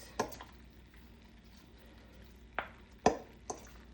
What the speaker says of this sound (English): so we have to stir the meat